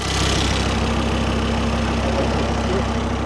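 Volvo engine running steadily at a low, even idle-like drone, loud and close, with no clear rise in revs.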